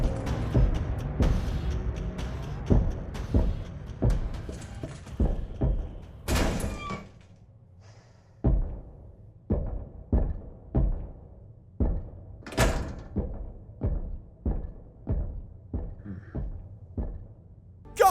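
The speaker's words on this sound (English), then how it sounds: "Just listen to the heavy footsteps of Mr. X when you're hiding from him in a save room" Heavy stomping footsteps of the hulking Tyrant Mr. X in the Resident Evil 2 remake, heard from inside a save room: a long series of dull, booming thuds at a slow steady pace, loud and close, with no talk over them.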